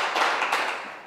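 Audience applause at the close of a comedy contest: a dense, steady wash of clapping at moderate loudness, lasting about a second and tapering off slightly at the end.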